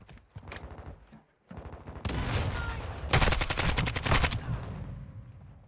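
Gunfire in the video game Call of Duty: bursts of rapid shots and heavier volleys, loud and close, with repeated sharp cracks building through the second half.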